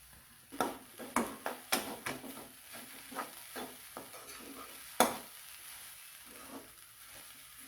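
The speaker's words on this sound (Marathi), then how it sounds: "आता आपण खोबरे चांगले खरपूस भाजून घेऊया" Grated coconut roasting in a pan for Goan mushroom xacuti, stirred with a utensil that gives a run of distinct scraping taps against the pan over a faint dry sizzle, close and fairly quiet.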